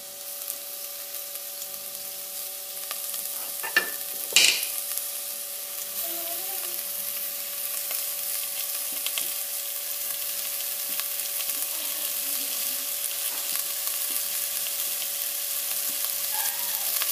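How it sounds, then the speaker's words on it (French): Minced beef browning in a pan with softened onions, a steady, fairly loud sizzle that runs the whole time, with a few brief clatters of stirring early on and no talking. "Et je vais faire dorer ma viande hachée"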